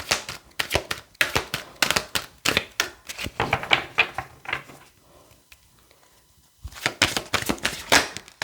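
Tarot cards being shuffled by hand, with bursts of sharp riffling clicks and slaps repeating in quick runs, a short quiet pause, and then another run of close shuffling.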